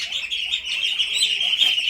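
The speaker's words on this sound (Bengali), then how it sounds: "হাঁসের বাচ্চাগুলো" Ducklings in a cage giving a dense, continuous chorus of high, thin peeping chirps, close and fairly loud, with no talk.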